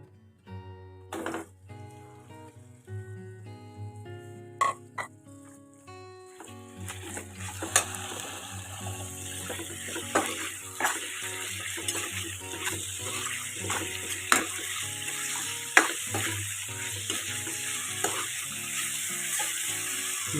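Marinated local chicken with black pepper going into a hot pan, a soft sizzle building and holding, with scattered clinks and knocks of utensils, fairly quiet and close, no talk.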